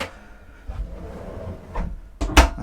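A cabin drawer aboard a Marex 390 yacht slides open and shut, giving a few soft wooden rumbles and then a sharp closing knock near the end. It sounds close and quiet.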